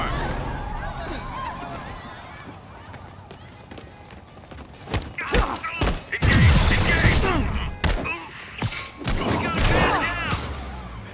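Enemy gunfire in the Marvel's Spider-Man video game: dense, rapid bursts of shots and thuds that build partway through and continue loud to the end, with voices heard during the action.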